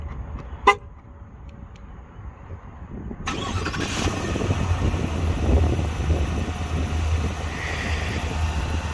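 A 2021 Chevrolet Tahoe LT locked with its key fob gives one short horn chirp early on. About three seconds later the engine starts remotely and settles into a steady, close idle.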